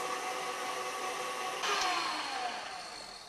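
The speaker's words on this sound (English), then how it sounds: "We're just going to let it whisk for a little bit." An electric mixer whisks a sugared meringue mixture with a steady, close whirring hum, its motor pitch shifting slightly midway as the beaters work, with no talk.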